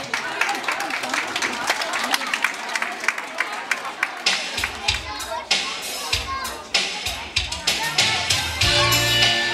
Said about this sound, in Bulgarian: аплодисменти за мъжете в тази група